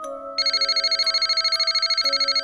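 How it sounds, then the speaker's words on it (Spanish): A mobile phone rings as a sound effect in a horror story, loud and close, a trilling electronic bell that pulses rapidly and evenly under a sustained tone. "el móvil volvió a sonar."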